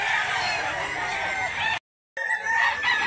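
Fighting cocks crow repeatedly at a busy rural chicken market in Mantalungon, Barili, Cebu, the calls loud and overlapping above a steady crowd murmur, broken by a brief total dropout before the crowing resumes.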